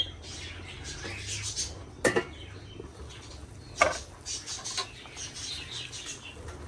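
Birds squawk and chatter nearby, with a couple of sharp louder calls or flaps standing out over a busy background.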